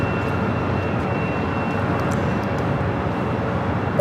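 An Airbus A330-300 jet departing LAX produces a steady, broad roar of engine noise that stays constant and fairly loud throughout, without voices.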